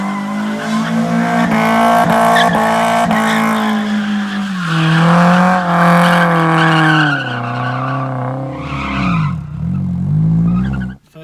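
A loud, close S14 car engine roars and revs while the tires squeal in a long sustained drift slide, the pitch bending down before it abruptly cuts off.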